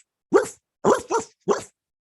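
A human voice imitates a dog barking, giving four loud, sharp woofs, the middle two in quick succession, with silence between them.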